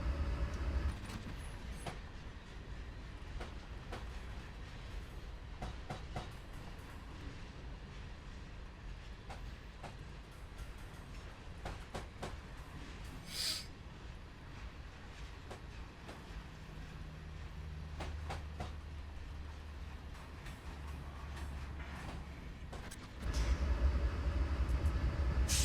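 A WP U30B diesel locomotive in Train Simulator on the Feather River Canyon line rumbles steadily with rail clatter, a continuous low engine drone and scattered clicks that grows slightly louder near the end.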